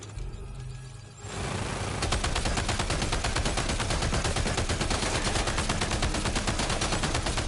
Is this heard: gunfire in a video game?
yes